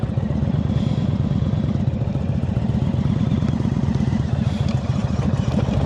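A motorcycle rolls at slow speed with the clutch held partly engaged during slow-speed riding practice in Nevada, giving an even, close, slightly clattering engine drone with no voices over it.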